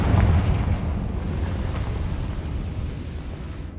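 The Confringo fire spell in Hogwarts Legacy detonates with a deep, muffled boom that rolls into a sustained low rumble and crackling debris, fairly loud and close.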